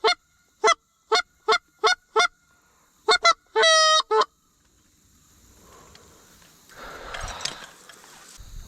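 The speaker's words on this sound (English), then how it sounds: "I was in my dream hearing geese until I woke up and I heard geese." Geese honk nearby in a string of loud, evenly spaced calls, then a quick rapid flurry of honks, before a quieter stretch of rustling and wind-like background noise.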